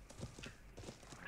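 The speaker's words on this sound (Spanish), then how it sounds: "Hay un montón de caballos." Horse hooves clip-clop in the medieval online game Life is Feudal, a steady run of close knocks that persists under game ambience and background talk.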